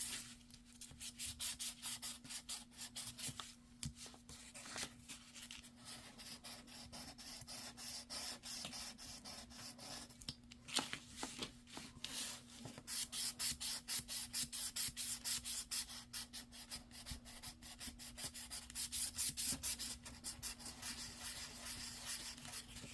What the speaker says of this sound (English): So I'm just gonna try to sand off the extra glue or anything that I got on the top here.